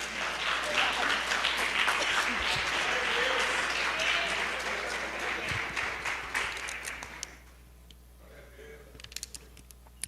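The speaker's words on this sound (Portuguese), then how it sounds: "Você aplaude o Senhor nessa noite" Church congregation applauding during an evening worship service, a dense, loud wash of clapping that runs for about seven seconds before fading to a quiet room with scattered sounds.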